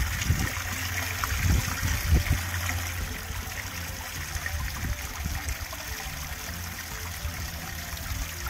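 Steady trickling water flows continuously from a pond pump, a soft gentle splash close by with a low rumble underneath, no voices.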